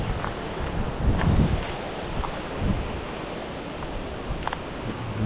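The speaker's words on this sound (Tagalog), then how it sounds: "Mas malakas yung hangin ngayon." Strong wind blows through a papaya plantation, buffeting the microphone in rough, surging gusts, with a louder rush near the start and a steady windy roar after.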